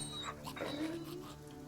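War dogs whimpering in the fantasy strategy game Battle Brothers: a faint, brief, high whine that rises and falls over low, steady background game sound.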